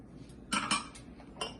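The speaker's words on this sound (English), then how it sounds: "We need to mix all the ingredients in this bowl." Metal utensils clink and scrape against a bowl while fresh parsley, garlic and other ingredients for stuffed tuna peppers are mixed, a few close, quick bursts of clatter.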